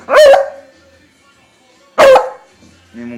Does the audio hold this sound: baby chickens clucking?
no